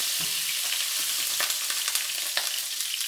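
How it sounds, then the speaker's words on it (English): Chopped garlic and red hot pepper fry in a wok with a steady, loud hiss of hot oil. A few light clicks of a utensil sound through, and no one speaks. "and 1 teaspoon of garlic, chop up garlic, fry them up like that"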